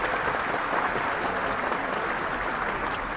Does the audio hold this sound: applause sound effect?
yes